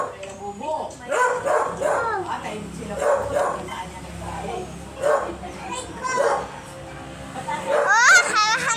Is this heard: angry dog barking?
yes